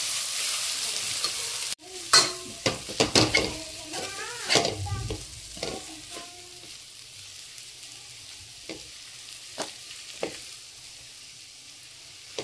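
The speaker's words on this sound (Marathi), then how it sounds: "आता मी तो याच्यात टाकते बघा। छान मस्त असं मिक्स करून घ्यायचं।" Kurdai crumbs being stirred into bhaji frying in a pan, a Khandeshi dish; scraping spoon strokes come in quick bursts over a steady sizzle, then slow to occasional stirs.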